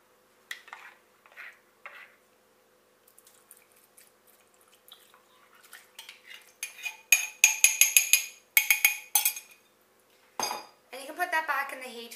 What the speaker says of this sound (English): And now you can put in your little cup of oxtail soup.